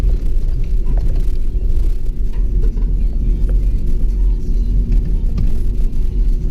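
Nissan Patrol engine holding a steady speed in low-range gear on a descent, a loud continuous low rumble with constant drone and no clear rise or fall.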